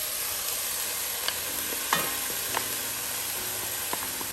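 Chopped celery and fennel bulb sauté in a pot for a fish stew, a soft constant sizzle broken by scattered light spoon taps and scrapes, fairly quiet and with no voices.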